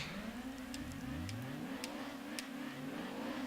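Turbocharged car engine in the racing video game Gran Turismo 2, a steady loud game engine drone with rising and falling revs as gears shift, continuous throughout with faint short clicks above.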